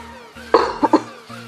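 A person coughs while playing a video game, a sharp single cough followed by two shorter ones in quick succession, close and loud over a quiet steady background hum.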